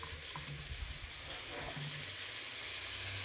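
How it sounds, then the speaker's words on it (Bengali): Ghee added to hot white oil in a pan for frying peas and capsicum, a steady close sizzle with faint low clatter underneath. "ঘি দিয়ে সবজিগুলোকে ভাজবো। দেখো, এই যে ঘি দিয়ে দিচ্ছি, সাদা তেলের সাথে ঘি দিয়ে দিলাম"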